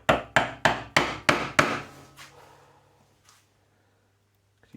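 A chisel is struck with a mallet while cutting a recess for a thick butt hinge in wood. About six sharp, loud strikes come in quick, regular succession, followed by a few fainter taps and a decaying ring.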